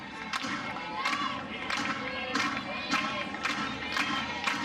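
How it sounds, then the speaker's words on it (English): Softball crowd at an Oklahoma vs Baylor game clapping together in a steady rhythm, about six to seven evenly spaced claps over a constant background murmur, moderately distant. "Crowd comes to life, claps in unison"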